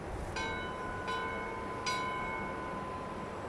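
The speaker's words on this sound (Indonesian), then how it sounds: "katanya bel yang di atas ini bisa dibunyikan ya" A small bell at a rustic museum in Sentul, Bogor, is rung by pulling its rope: three separate strikes, each leaving a bright, sustained metallic ring that overlaps the next against a soft background hiss.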